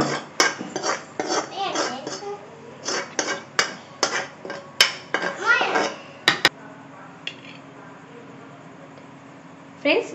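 A metal spoon clatters against a pan and bowl again and again as tomato thokku is scooped into a bowl, sharp close knocks and scrapes in irregular bursts that mingle with a voice, then taper off.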